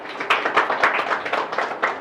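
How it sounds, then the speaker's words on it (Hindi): A classroom group claps together in a brief burst of quick, uneven hand claps, fairly close and lively, lasting about two seconds. "सब लोग ताली बजाओ एक बार।"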